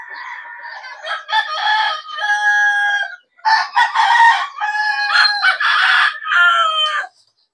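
Chickens in a garden crow and cluck loudly and close by, in a near-continuous run of calls with one brief pause midway, with no talking.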